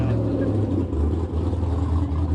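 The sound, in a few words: loud car engine passing by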